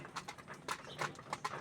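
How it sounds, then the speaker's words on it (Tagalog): Racing pigeons coo softly and peck nearby, producing short burbling calls and light scattered taps in a quiet, slightly noisy setting without speech. "Tuka kayo dyan. Mga kalapati."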